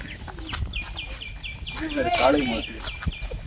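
Crows call at an outdoor spot by a waterfall and boating park, a run of repeated caws standing out over people talking nearby and outdoor background noise.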